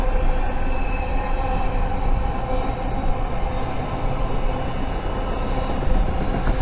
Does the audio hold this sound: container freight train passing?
yes